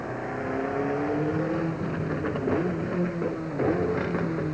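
Formula 1 car circling the Monaco street circuit and taking the Portier corner in second gear, its engine whining steadily as the revs rise and fall through downshifts.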